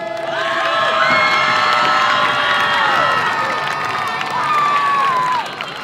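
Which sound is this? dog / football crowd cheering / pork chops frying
football crowd cheering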